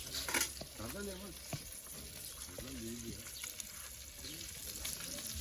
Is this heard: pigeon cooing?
no